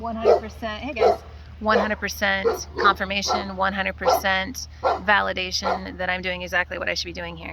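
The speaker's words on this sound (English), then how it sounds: "So, excuse my dog." A pet dog barks and yips repeatedly indoors while a person talks continuously over it. The barks come in quick, close bursts mixed with the speech.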